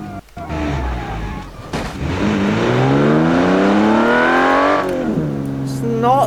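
A 1940s-technology car engine from a car-building video game runs and revs loud and close, its pitch sweeping up through a long acceleration, then dropping and climbing again, with a grating, rough edge.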